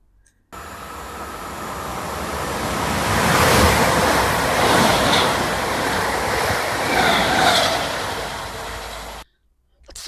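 A Class 323 electric multiple unit in Anglia colours rushes through a station, a broad roaring whoosh that swells, holds for several seconds and then cuts off, heard close on the platform.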